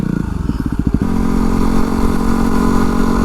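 A Yamaha WR250R motorcycle in supermoto trim, with an exhaust from a Tesla, putters in rapid pulses, then settles into a loud, steady engine rumble close by.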